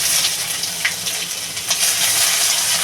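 Grated ginger dropped into hot oil for a hilsa fish curry, crackling with a bright, steady sizzle close up, sustained throughout.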